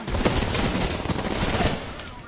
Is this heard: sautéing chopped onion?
no